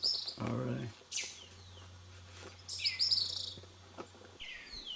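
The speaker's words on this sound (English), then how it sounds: "Black-throated blue warbler here." A black-throated blue warbler gives several short, high, buzzy chirps and call notes at moderate distance, separated by pauses, over a faint steady hum and light background noise.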